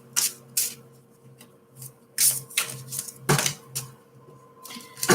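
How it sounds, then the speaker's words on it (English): Tarot cards are shuffled by hand in a quiet room, giving a series of sharp, crisp riffling bursts at irregular intervals with short pauses between, close and clear against a faint steady hum. "Oh, my shuffling tonight is really, really bad."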